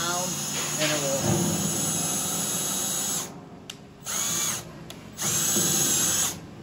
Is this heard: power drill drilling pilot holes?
yes